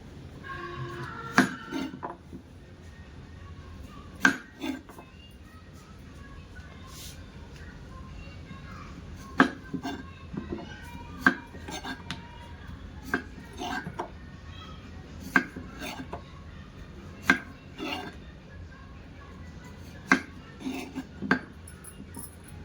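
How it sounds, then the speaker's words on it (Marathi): Potatoes being cut with a knife for peri peri French fries, sharp scattered chops and clicks against a board with clinking kitchenware, while a person speaks throughout. "आपल्याला आता बटाटा कापून घ्यायचा आहे."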